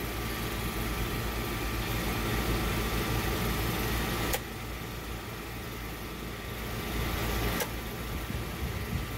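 A Champion 7000 W inverter generator runs with a loud, steady engine drone, broken by two sharp clicks as power is switched over, and the hum shifts slightly in level after the first click.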